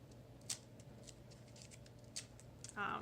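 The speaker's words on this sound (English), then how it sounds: "I did a bad job cutting this page" Scissors snipping a paper planner page in short, crisp cuts at irregular intervals, close and fairly quiet, ending with a brief rustle.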